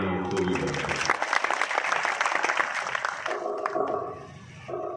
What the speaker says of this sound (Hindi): एक बार तालियां उनको भी